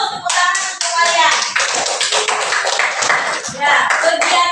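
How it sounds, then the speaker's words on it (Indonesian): A class of schoolchildren clapping hands in a classroom, a close, loud burst of many distinct claps in quick uneven rhythm, with children's voices chattering under and between the claps. "tepuk tangan untuk kalian."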